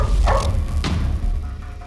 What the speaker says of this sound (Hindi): ये आवाज सुनाई दे रही है? कुत्तों का लीडर है ये।